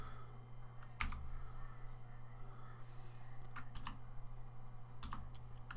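Fingers typing on a computer keyboard in short, scattered bursts of light clicks, faint and close, over a steady low hum with no talking.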